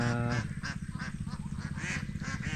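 A mixed flock of domestic ducks being herded outdoors, quacking and honking in a dense, continuous chorus of overlapping calls, fairly close and steady throughout.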